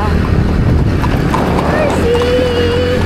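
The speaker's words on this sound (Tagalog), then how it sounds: "Yan na yung kabayo" A horse heading to a fiesta clip-clops steadily amid a loud outdoor crowd, with a brief whinny-like call and voices talking over a constant background din.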